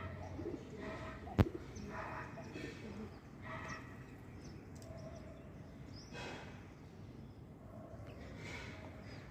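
A pigeon on a rooftop, heard as faint, scattered coos and soft bird calls over a quiet outdoor hush, with one sharp knock early and someone speaking at times.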